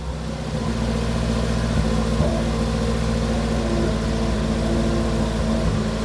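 An old Datsun roadster's engine runs at a steady, loud, close idle, a dense continuous drone that does not change for the whole stretch, with no voices over it.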